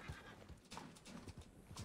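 Horse in Red Dead Redemption 2, shod hooves clip-clopping in an uneven trotting rhythm close by, with a brief neigh, fairly quiet overall.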